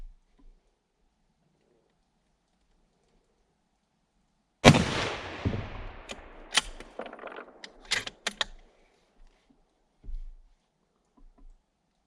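Unsuppressed rifle firing Oryx Silencer ammunition, one sharp, loud report after several seconds of quiet, followed by a long ringing echo and scattered clatter, with a faint thump later on.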